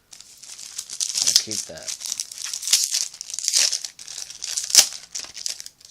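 Battle Pack trading card wrappers crinkle and tear in short bursts close to the microphone, sharp crackling rustles scattered over a few seconds while a person talks briefly.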